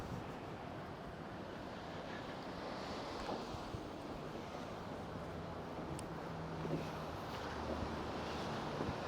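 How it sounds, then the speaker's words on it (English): Ocean surf at Padaro Beach in Santa Barbara, a steady broad wash of waves with wind rumble on the microphone, no voices. "This is Padaro Beach. This is the beach we were bragging about"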